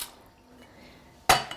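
Pasta dropped into a pot of boiling salted water with a little oil, a sudden brief clatter and splash after a quiet stretch, close and fairly loud, with no talking.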